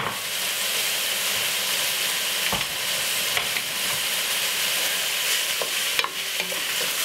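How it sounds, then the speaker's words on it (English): Cooked spaghetti and vegetables stirred in a hot pan, a steady loud sizzle and hiss with intermittent scraping and clinking from the utensil, no voices. "Then we're gonna put roughly about 2 handfuls of cooked spaghetti."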